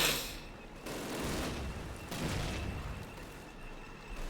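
Anti-tank rifles in a Call of Duty battle fire amid a dense, continuous fusillade of loud gunshots and booms, with sharp blasts marking the start and near the middle of the barrage.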